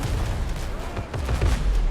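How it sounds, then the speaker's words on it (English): Ship cannons fire in a pirate naval battle in the video game Windrose, a run of loud, overlapping booms and blasts close by across a couple of seconds, with no clear speech. "Come on, cannons!"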